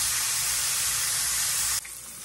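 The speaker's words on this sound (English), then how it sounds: "Get them fried up, get them crusty" Chicken fried steak bites sizzle steadily in a hot pan, a dense, loud hiss that runs continuously before dropping sharply to a quieter, softer crackle near the end.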